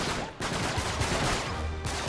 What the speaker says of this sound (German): Hör auf blind zu schießen